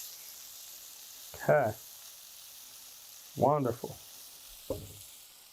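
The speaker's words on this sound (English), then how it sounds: "Garlic going in. That nice little sizzle." Garlic sizzles steadily in a hot pan as an even frying hiss runs throughout, while a person says a few brief words over it.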